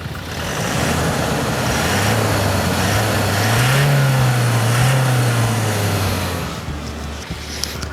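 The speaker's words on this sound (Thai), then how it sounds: "เดี๋ยวผมเร่งเครื่องให้ฟัง" A 2018 Toyota Hilux Revo 2.4 diesel pickup's engine revs up, holds a throaty roar for a few seconds, then settles back toward idle, loud and close.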